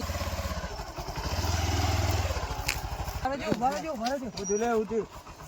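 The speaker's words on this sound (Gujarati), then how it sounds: "એક બાઈક આવે છે." A motorcycle approaches with a steady throbbing engine rumble that swells in the first seconds, then voices talk over it as it draws close.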